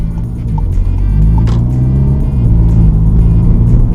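A VW Golf 7 GTI tuned to Stage 1 with an aftermarket exhaust revs loud and close, a dense steady engine roar that swells slightly midway and holds to the end.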